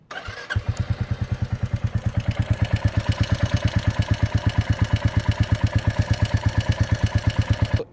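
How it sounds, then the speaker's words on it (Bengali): Royal Enfield Classic 350 single-cylinder engine idling after starting up, a close, loud, steady thumping beat with a rapid metallic ticking of tappet noise riding on each stroke, no talk. "সাউন্ড একটু শোনাই ট্যাপেটের সাউন্ড"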